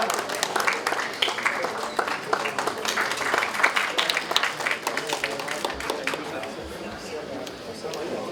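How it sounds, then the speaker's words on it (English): A conference audience at an international academic event gives a warm round of applause, a steady patter of many hands clapping at moderate volume, while voices carry over the clapping. "give a warm round of applause to welcome sir."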